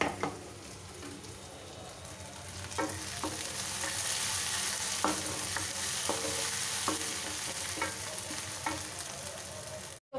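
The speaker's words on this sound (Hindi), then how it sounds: "प्याज भून रहे हैं" Chopped onions fry in a pan for an egg curry, producing a continuous close hiss and crackle that swells slightly, punctuated by regular soft ticks of stirring, with no voices.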